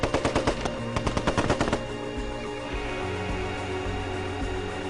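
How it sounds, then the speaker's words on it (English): Rapid machine gun bursts crack out during the 1973 army assault on Chile's presidential palace, a dense volley of close, loud shots in the first two seconds, then a rumbling aftermath. "with General Pinochet leading the army, the assault began on the presidential palace"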